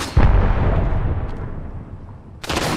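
Gunfire in Apex Legends: a sharp, heavy shot bursts out, its rumble decaying over the next two seconds before another loud report cracks at the end.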